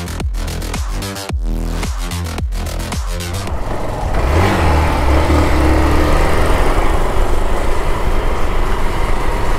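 A motorcycle engine runs steadily while the bike is ridden. A close, rough drone swells louder about halfway through and holds to the end.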